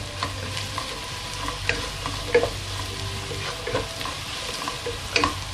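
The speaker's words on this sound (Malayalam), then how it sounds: "മല്ലിപ്പൊടി ഒന്ന് ജസ്റ്റ് ഒന്ന് വറുത്തെടുക്കാം" Coriander powder dry-frying in a pan for Kerala-style beef curry, with a soft continuous sizzle and repeated scraping stirs and spatula taps at close range.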